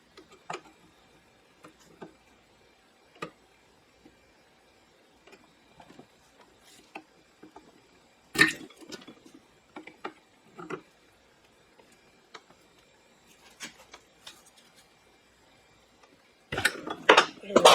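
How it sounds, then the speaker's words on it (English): A seal puller works on the seal beside the pinion gear in a Honda FourTrax 300 ATV final drive, giving sparse faint metallic clicks and ticks with a few louder scraping bursts, close by. "See if I can get my seal puller in here without damaging this pinion gear."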